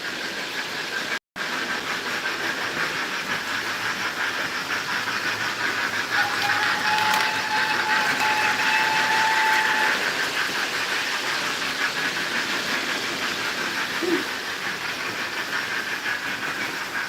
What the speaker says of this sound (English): there's a Great Eastern tank engine.